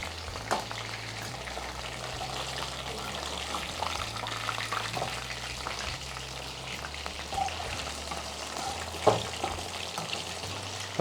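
Boneless chicken 65 pieces deep-fry in hot oil with a low, steady bubbling sizzle at moderate volume and a few faint clinks.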